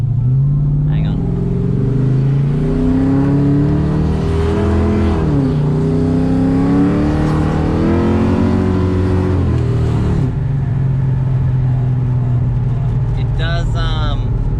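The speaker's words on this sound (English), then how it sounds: "have a little bit of a whine, which I was kind of expecting with a second-hand diff center" A Holden VN Commodore with an LS1 V8 pulls away and cruises, engine tone rising and falling through gears with a faint whine from a second-hand diff centre; loud, close cabin sound.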